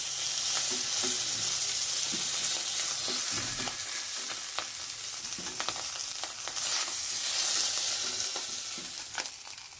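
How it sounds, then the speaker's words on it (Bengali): Bata fish fry in hot oil in a pan, giving a steady, close sizzle with scattered crackles and light scraping as the pieces are turned. "সবগুলো উল্টে পাল্টে সুন্দর করে ভেজে নিয়েছি"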